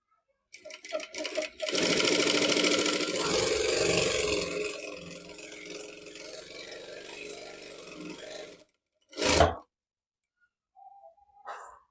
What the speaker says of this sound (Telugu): ఇప్పుడు సన్న క్లాత్ కుడతాను.